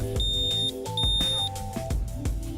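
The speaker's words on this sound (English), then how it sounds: "turn the battery on by pressing the button and wait to hear a loud beeping sound" Two loud, high electronic beeps from a Manta5 hydrofoil bike battery powering on sound in quick succession over a background of music.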